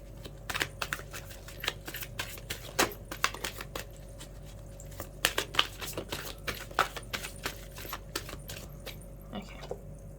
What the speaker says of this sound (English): I need to shuffle a few times